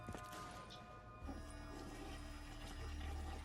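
Toilet flush in Call of Duty Zombies Chronicles on the Verrückt map, a rushing watery swirl that rises midway and runs steadily beneath low in-game ambience and music.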